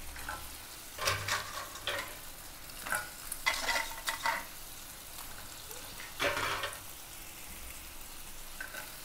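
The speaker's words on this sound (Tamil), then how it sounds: "லைட்டாக நம்ம இதை கிளறி விட்டுக்கலாம்." Crab cleaned with turmeric and salt is stirred lightly in frying masala in a pan. Soft scraping strokes come at irregular intervals over a faint, steady sizzle, with no talking.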